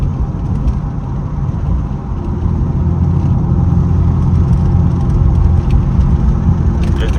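Interior drone of a tuned Chevrolet Camaro SS being driven, recently fitted with a replacement CV axle: a steady, loud, low engine and road rumble continuing throughout without pause.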